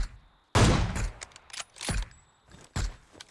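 Gunfire in the battle royale game PUBG: a loud burst near the start followed by several sharper cracks and thuds spread through the few seconds, loud and fairly close.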